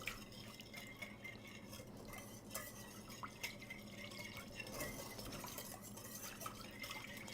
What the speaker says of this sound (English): we're just going to kind of really whisk this together. Get the oils and the vinegar to mix up as best as we can.